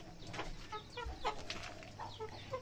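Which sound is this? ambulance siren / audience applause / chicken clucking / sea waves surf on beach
chicken clucking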